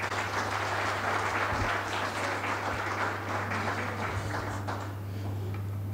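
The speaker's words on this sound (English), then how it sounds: "please a round of applause for Dr. Donald Kaberuka." Luncheon audience at a lecture series event applauding a guest speaker, a steady sustained round of clapping with a constant low hum underneath, moderately loud and tapering slightly at the end.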